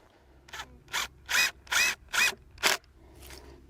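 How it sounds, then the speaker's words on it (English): A power drill drives screws into a warped wooden board of a garden box bed, giving six short, whirring bursts with brief pauses between them, close and fairly loud. "Alright, so putting the screws in on this side."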